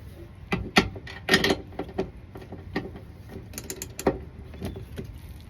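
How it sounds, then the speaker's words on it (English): Ratchet wrench tightening bolts while installing side steps on a 2024 Chevrolet Silverado Trail Boss truck, with several close, irregular bursts of clicking and metallic clatter separated by short pauses. "Definitely the ratchet, though, that worked. The ratchet wrench."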